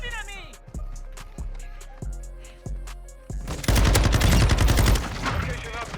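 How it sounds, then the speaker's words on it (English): Bursts of automatic gunfire in Modern Warfare 2, from an LMG such as the Sakin MG38, open as spaced single sharp shots and then build into dense, loud sustained firing near the listener, with game voices mixed in. "They're shooting at me!"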